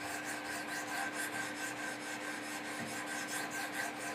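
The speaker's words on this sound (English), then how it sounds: "So I'll pick on one side for just a minute and do a series of scrubbing strokes like this." Steady scrubbing strokes of a stone across the blade edge of a Benchmade Mini-Griptilian knife clamped in a Wicked Edge sharpener, a continuous close rasping rub with faint rhythmic pulses and no talking.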